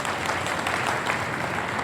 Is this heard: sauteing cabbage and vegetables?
no